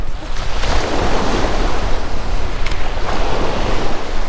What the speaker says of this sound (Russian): Чтобы вы понимали, какие волны.